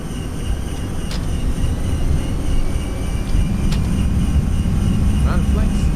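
Airbus A321neo jet engines spooling up in a flight simulator, a steady loud roaring drone with a rising whine, beneath a talking voice.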